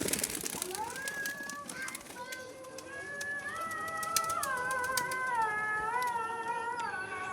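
Pet pigeons coo steadily for several seconds, with drawn-out tonal calls layered over a constant murmur of background bird and household noise.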